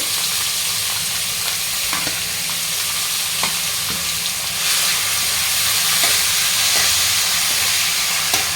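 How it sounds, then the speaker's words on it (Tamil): Crushed onion and garlic sautéing in a pan for a squid fry, a loud continuous sizzle with scraping stirs and a brief swell of hiss midway, no speech. "நல்லா வதக்கிக்கலாம். அதை வர வரைக்கும் வதக்கிட்டே இருங்க."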